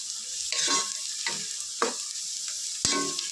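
Sliced onions fry in a small amount of oil in a pan, a steady close sizzle broken by several scraping stirs of a spatula, with no voices.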